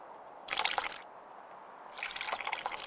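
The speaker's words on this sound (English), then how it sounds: "We just spilled like a bunch of water on the ground." Water spilling onto the ground in the sailing game Sailwind, two short splashing gushes about a second and a half apart, faint and without talk.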